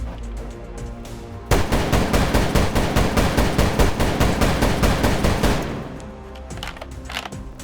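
A LEGO AA-12 automatic shotgun loaded with 12-gauge shells fires a rapid, steady stream of about twenty loud, evenly spaced shots. The firing runs for around four seconds, then stops abruptly into quieter background.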